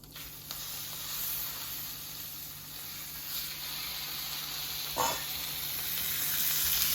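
A salmon fillet fries in a hot pan with a steady, close sizzle as it is turned over, the hiss holding level throughout with a brief flare of crackle partway through.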